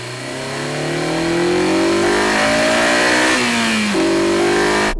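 A Honda S2000 engine with its stock airbox revs up loudly and close, the pitch climbing steadily, dipping once, then rising again in a sustained high-revving wail.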